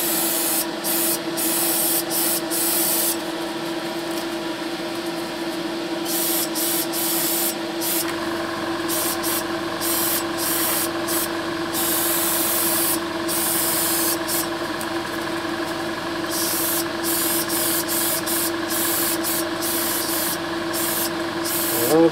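A spray can or spray gun lays another coat onto car wheel arches, a continuous hissing spray running close and steady with short pauses, an engine idling faintly behind.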